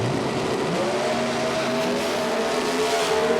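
A Competition Eliminator drag car with a four-cylinder engine drones steadily at the top end of the strip at Belle Rose, Louisiana, its pitch sliding gently downward as it coasts, loud and continuous.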